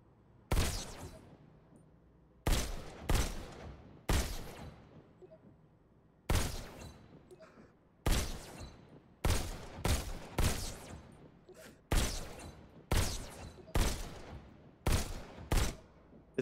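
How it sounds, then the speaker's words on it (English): Single pistol shots ring out in the Robo Recall video game, a dozen or so loud sharp cracks fired alone or in quick pairs, each with a short decaying tail and quiet gaps between them. "Now you're armed. Just squeeze the trigger to shoot."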